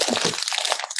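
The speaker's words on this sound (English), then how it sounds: "Let's crumple it up" Paper or a similar sheet being crumpled up by hand before it is burned, giving a close, dense crackling crinkle that runs the full second with small sharp crunches.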